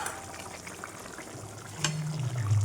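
Fish slipped into a pot of boiling water with capsicum and potato, a steady bubbling simmer joined near the end by a soft splash and louder rising bubbling, close and without voices.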